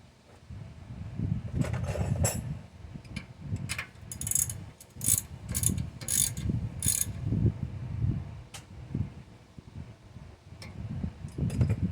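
A ratchet wrench snugs down a bolt on the rear brakes of a 2019-or-later Mercedes Sprinter van, giving bursts of quick close-up clicking mixed with low mechanical rumble and handling noise, no voices.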